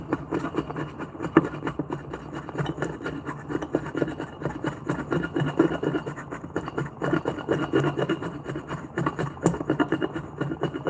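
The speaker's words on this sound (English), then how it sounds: "to pull the blade away from this edge on this wood that's going to split straight down if I push it like a chisel" Blade shaving the edge of a 2x4 while shaping a mallet, giving repeated close scraping and rasping strokes in a steady rhythm at moderate level.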